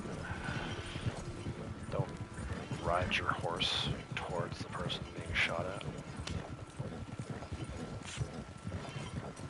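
Rhythmic horse hoofbeats clop along steadily in the video game Red Dead Online beneath someone talking, with faint background effects mixed in.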